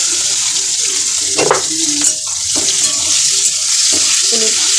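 Cauliflower pieces frying in a pan as part of a fish curry with taro, a close hissing sizzle with clattering stirs and scrapes coming in bursts, fairly loud, with no voices.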